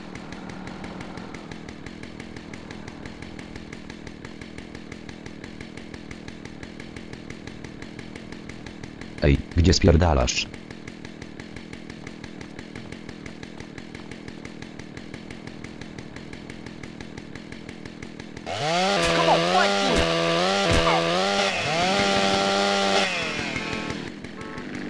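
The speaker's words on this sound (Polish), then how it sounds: "pora na piłę" A chainsaw in GTA San Andreas buzzes steadily and evenly throughout, with a brief shout partway through and louder overlapping voices talking near the end.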